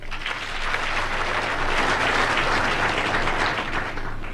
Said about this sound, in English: Let us applaud them all.